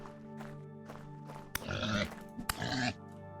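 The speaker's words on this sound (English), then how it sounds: "We did find some more pigs out here as well." Pigs in the video game Vintage Story grunt and squeal close by, a few short grunts followed by two louder, harsh squealing bursts over a steady tonal background.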